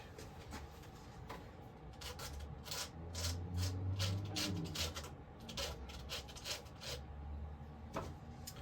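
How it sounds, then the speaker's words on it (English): Sandpaper rubs the end of a model railway track piece in faint, steady back-and-forth strokes close by, quiet and without any talking. "Just with a little bit of sandpaper. Doesn't need much. Just to help that go in."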